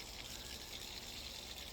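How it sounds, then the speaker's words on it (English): Water pouring into a newly resurfaced swimming pool, a steady, even rushing and trickling wash that holds constant throughout, moderately faint and heard alone. "The soothing sound of water filling a pool."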